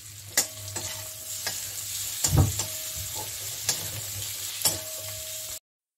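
Slit green chillies fry in a pan, a steady sizzle broken by several sharp scrapes and clatters of stirring, one heavier knock near the middle, all close and with no talk.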